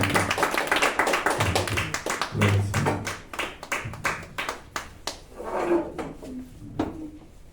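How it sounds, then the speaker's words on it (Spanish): A congregation at a church service claps, with a dense burst of handclaps that thins to scattered claps and then fades, close and fairly loud. "Vamos a darle un fuerte aplauso al Rey"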